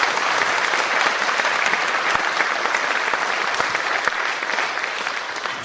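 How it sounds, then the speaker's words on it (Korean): Congregation applause at a church 40th anniversary ordination service, sustained, even clapping from a large crowd that holds steady throughout and tapers slightly at the end. "우리 축하할 때는 박수 한번 쳐야 됩니다."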